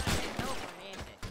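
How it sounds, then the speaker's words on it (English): Rapid gunfire in the Prodigy 2.0 role-play video game: a loud burst of automatic shots at close range, with a voice heard over it. "gun was shooting me!"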